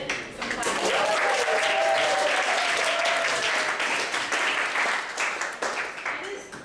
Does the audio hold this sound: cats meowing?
no